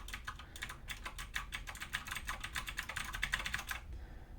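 Rapid clicky keystrokes on a mechanical keyboard with blue switches, a steady stream of crisp close-up clacks that runs for about four seconds and then stops.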